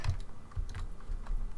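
Rapid clicky keystrokes on a new SteelSeries Apex mechanical keyboard, a close, steady patter of typing with no voices.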